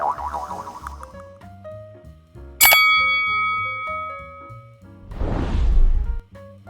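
A bright notification bell ding rings out once, loud and clear, between stretches of music, followed later by a whoosh.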